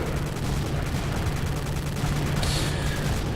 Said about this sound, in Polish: Czyli jednak mogłem strzelać w baryłkę.